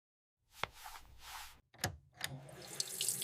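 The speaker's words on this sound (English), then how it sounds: "I turn on the water." A bathroom tap is turned on, a brief click and a knock followed by bursts of water gushing into a sink, close and fairly loud, with no talk.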